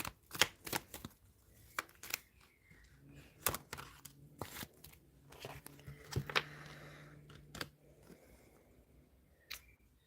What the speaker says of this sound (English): Let's get 3 cards for the outcome.